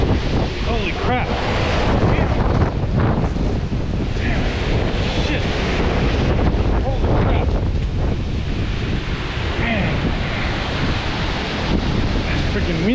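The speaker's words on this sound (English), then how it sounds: "Freaking windy as hell." Strong monsoon dust-storm wind roars across a small city, buffeting the microphone with a loud, continuous rumbling gust noise that surges and eases throughout.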